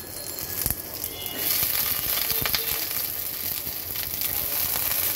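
Onion frying lightly in oil, a steady close sizzle and hiss that swells after the first second and holds, with faint crackles and no talking.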